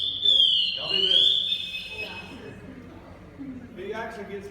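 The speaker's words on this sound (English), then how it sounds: "If we're still for too long, this thing will go into alarm." A firefighter's motion alarm, triggered when the wearer stays still, sounds a shrill, close electronic tone that sweeps and warbles, with people talking around it.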